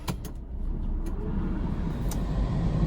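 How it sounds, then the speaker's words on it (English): A car drives around a corner near a school, with a steady engine and road rumble close up and a few faint ticks and clicks over it. No voices. "I'm gonna drive around the corner and go get them"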